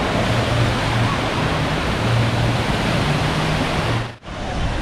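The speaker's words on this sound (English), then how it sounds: "this is just the regular lazy river" Water rushes steadily at the lazy river in Volcano Bay water park, Orlando, a loud continuous broadband wash that briefly cuts out near the end.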